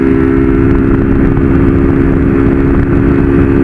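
A 160 motorcycle engine held at full throttle in fifth gear on a highway, a loud, close, unbroken drone with steady pitch and constant wind rush.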